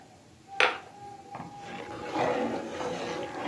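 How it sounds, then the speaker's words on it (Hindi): A spoon stirs flour batter into a pot of chickpea nihari, a few sharp metallic clinks against the pot followed by quieter scraping and a soft cooking hiss. "हमें मुस्तकिल चम्मच चलाते रहना है, ताकि नीचे गुठलियाँ नहीं बने।"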